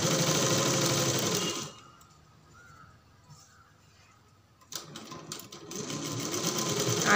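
A sewing machine stitches a three-quarter blouse sleeve in a close, fairly loud whir. The run stops for about three seconds of near quiet, then the machine starts again and keeps going.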